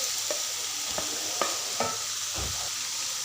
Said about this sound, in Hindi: अब हम इसे अच्छी तरह से भून लेते हैं।